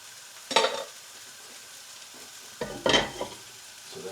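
Onions frying in a pan on raised heat, a quiet low sizzle broken by two louder bursts of stirring or spattering, close by with no talking.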